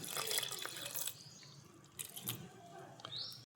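Water is poured into a pressure cooker holding chakvat greens with peanuts, tomato, coriander, salt and turmeric, giving brief, fairly soft splashing and trickling in uneven bursts, close by.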